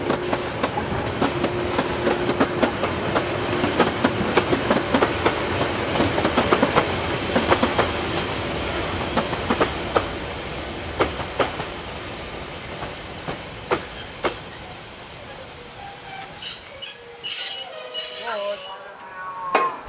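A steam train on the Harz narrow-gauge railway rolls in with rhythmic clickety-clack of wheels and metallic squeals, loud at first, then slowing and quieting as it comes to a stop.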